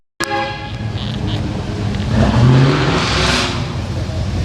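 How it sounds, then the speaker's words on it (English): CSX freight train horns sound from a rail line near a park hosting a car show, a sharp blast opening followed by a sustained horn tone over a rumbling background of idling cars. "Actually a CSX line not too far from the park. And that's what you're hearing the horns for."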